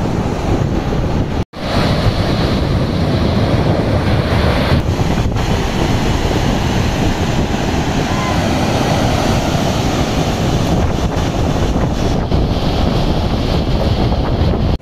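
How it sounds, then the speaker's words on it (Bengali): Water released from Panchet Dam rushes with force in a loud, continuous roar of churning spray, with heavy wind buffeting close to the microphone and one brief dropout near the start. "এখান থেকে যে জল ছাড়ছে এইমাত্র বললাম, তো সেই জলের ফোর্সটা ঠিক কতটা সেটা তোমাদের দেখাচ্ছি"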